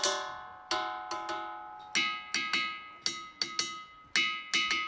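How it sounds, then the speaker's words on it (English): Ringing Rocks of Montana struck one after another, giving bright metallic, bell-like clanks that ring out and decay, about fifteen strikes at uneven intervals, close and clear with no talk. "These are called the Ringing Rocks of Montana, and they're strange because they really shouldn't sound like this."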